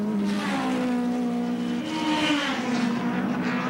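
Touring race cars roar loudly and continuously around Lakeside circuit in the 1988 Australian Touring Car Championship, engines droning and shifting pitch, with faint tyre squeal as the cars slide.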